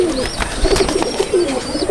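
Pigeons in a Madrasi pigeon loft coo in repeated soft, rolling calls that overlap closely, with higher chirps and rustling behind them.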